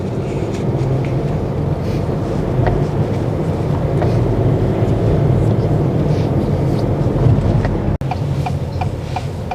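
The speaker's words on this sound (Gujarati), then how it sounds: "માલગાડી હોય. માલગાડી." A freight train passes a railway crossing, a loud, continuous low rumble heard close by with wind buffeting throughout and a brief break near the end.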